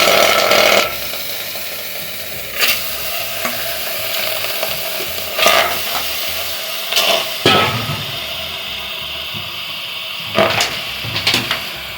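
Mutton pieces drop into a hot pressure cooker with cloves, cardamom and cinnamon, giving several loud sizzling bursts and scraping stirs between quieter crackling stretches.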